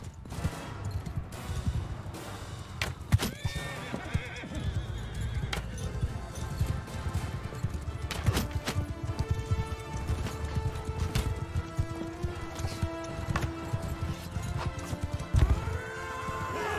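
Horses whinny sharply and hooves clip-clop rapidly in a Mount & Blade 2: Bannerlord battle, with repeated neighs over busy combat clatter and thuds, fairly loud throughout.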